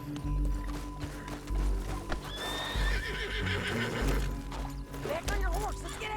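Horse in the Western video game Red Dead Redemption 2 whinnying with a rising neigh, hooves clip-clopping at a steady trot beneath it, close and clear over background game ambience.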